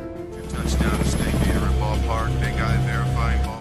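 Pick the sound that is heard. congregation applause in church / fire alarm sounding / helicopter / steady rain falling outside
helicopter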